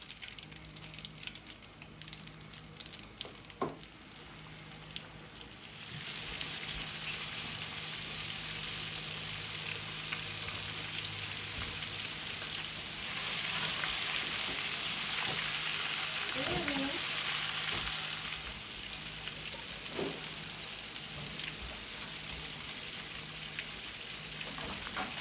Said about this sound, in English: here's my last set of frying